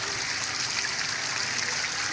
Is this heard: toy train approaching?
no